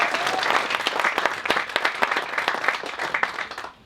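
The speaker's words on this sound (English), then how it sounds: "I think we should just clap for all these." Audience applause at an awards ceremony, a dense steady wash of many hands clapping that carries on for several seconds, then tapers off quickly at the end.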